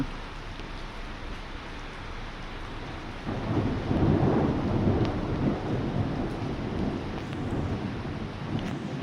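Steady rain pours down in Yerevan, swelling louder partway through into a heavier downpour, with a low rumble beneath the constant hiss.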